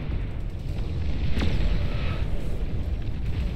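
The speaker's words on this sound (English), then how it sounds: "Juggernaut now being used to break the middle of the map here. Firing away whatever it can." Battle noise from the Beyond All Reason strategy game as a Juggernaut unit fires: a steady roar of booms and explosions with one sharper blast in the middle, dense and continuous.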